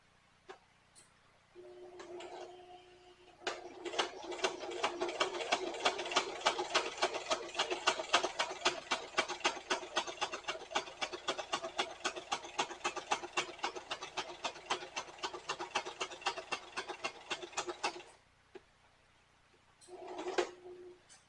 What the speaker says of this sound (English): I'll leave my needle in there, lift up my presser foot, turn it 90 degrees,